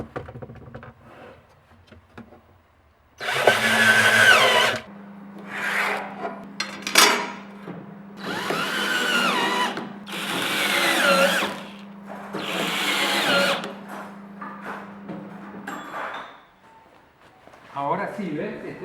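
A power drill bores a hole while a spice rack is mounted under a kitchen counter: a steady motor whine runs beneath several loud, rasping bursts of cutting noise, close up, with pauses between them.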